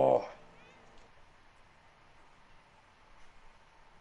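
A Palico cat companion in the Monster Hunter game gives a single short meow right at the start, followed by quiet game ambience with faint talk in the background.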